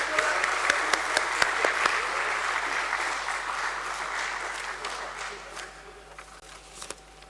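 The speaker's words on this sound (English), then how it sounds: "Everyone, let's give her a huge round of applause." An audience at a stock exchange listing ceremony gives a sustained round of applause, dense steady clapping that gradually thins out toward the end, with a faint hum underneath.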